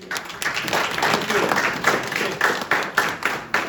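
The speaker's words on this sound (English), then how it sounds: "Please give us a good round of applause for Igna Relief." A room full of people applauds a relief organization at a women's foundation anniversary event, dense steady clapping with a few louder swells, fairly close.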